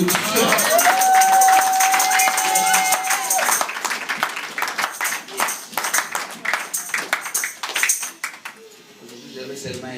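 A congregation in a French church breaks into loud, dense applause and cheering, with a sustained ringing tone early on, then the clapping thins into scattered, uneven claps as a voice speaks over it.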